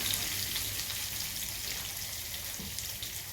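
Ginger and curry leaves frying in a pan while being stirred, a faint continuous bright sizzle with soft stirring scrapes and no talk.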